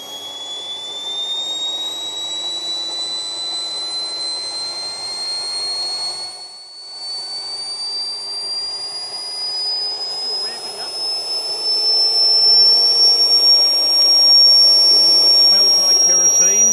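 A homemade kerosene-fuelled jet engine runs steadily with a high, rising turbine whine over a broad roaring rush, briefly dipping mid-way before building louder toward the end.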